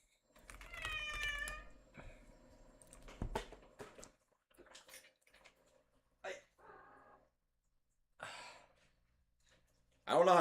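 A pet cat cries with a few drawn-out, wavering meows near the start, then the room falls mostly quiet apart from scattered faint sounds and a loud burst at the end.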